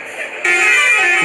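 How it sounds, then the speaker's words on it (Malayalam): A limited stop bus horn at night on a street sounds after a brief quiet moment, then holds as one steady, loud, reedy tone to the end. "ഇനി നമുക്ക് ഹോണൊക്കെ അടിച്ച് ലിമിറ്റഡ് സ്റ്റോപ്പ് ബസ് പോകുന്ന നിങ്ങൾ കണ്ടില്ലേ ഗൈസ്"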